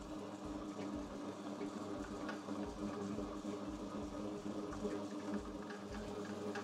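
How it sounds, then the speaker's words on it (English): A stand mixer kneads bread dough on second speed, giving a steady, continuous motor whir with a rhythmic low churning throb, close and even in level, with no talk over it. "Now if you've got a 3-speed machine, you'll be mixing this on 2nd speed."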